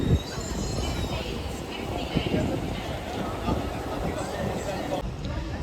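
An LNER Class 801 train arriving at Newcastle station, a loud steady rumble of wheels and motors close by, with people talking over it throughout.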